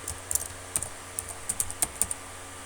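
Fingers tap out a line of Python code on a computer keyboard, a quick irregular run of crisp close keystrokes with short gaps, alone without talk.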